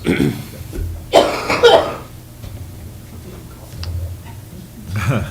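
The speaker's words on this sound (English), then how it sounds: "you haven't coughed all day till now" A single rough cough bursts out during a board meeting, followed by quieter background noise and faint speech-like murmurs.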